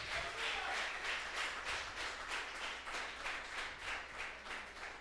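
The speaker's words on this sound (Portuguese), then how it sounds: "dê uma linda salva de palmas ao Senhor" Church congregation applauding during a worship service, a dense wash of many hands clapping steadily for several seconds, moderately loud and without a break.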